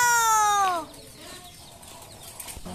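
A chicken gives a loud, drawn-out squawking call with falling harmonic tones, then quieter rustling and scattered faint noises follow.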